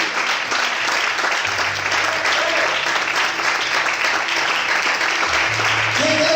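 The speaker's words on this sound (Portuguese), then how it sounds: "Se você crê, glorifique e aplauda o Senhor essa noite." Sustained applause from a church congregation during an evening service fills the space steadily, with faint voices and a few low tones underneath.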